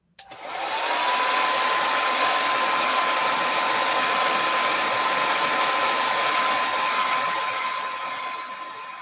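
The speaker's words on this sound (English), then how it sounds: "I'm going to just add a little bit of heat to the stamped image to dry that heat." Handheld heat tool blowing steadily for about nine seconds, drying ink on a freshly stamped paper image for card making; a loud, continuous whooshing hum with a faint whine, starting abruptly and running alone without talk.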